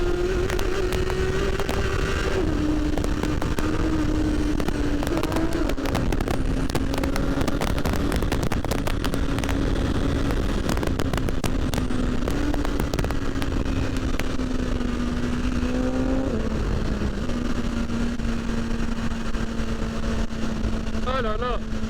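A BMW S1000XR motorcycle rides out of a tunnel, its engine droning steadily up close with small shifts in pitch, mixed with wind rush and clicks; the tone stays even for the whole ride.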